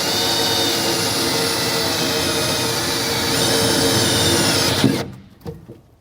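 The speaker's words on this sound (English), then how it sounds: "we're clear to drill, and I'll start that pilot hole." A power drill bores a pilot hole in a pickup truck bed during a tonneau cover install, whirring loudly and steadily for several seconds before it cuts off abruptly.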